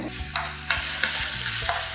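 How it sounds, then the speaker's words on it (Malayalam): Grated coconut stirred as it fries in oil for a Kerala sadya-style puli inji, with a steady soft sizzle under a few sharp scrapes and clinks of the spoon against the pan. Close and fairly quiet, with no voices. "ഇനി ഇതേ എണ്ണയിൽ തന്നെ നമുക്ക് കുറച്ച് തേങ്ങ വറുത്തെടുക്കണം"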